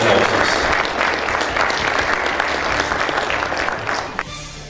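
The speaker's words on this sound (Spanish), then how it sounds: "Vamos a tributar un fuerte voto de aplausos." An audience at an engineering faculty ceremony honouring the president of the World Federation of Engineering Organizations gives a strong, sustained round of applause, dense and even, dropping away abruptly near the end.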